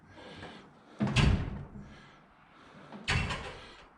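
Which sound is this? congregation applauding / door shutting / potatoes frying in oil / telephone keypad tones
door shutting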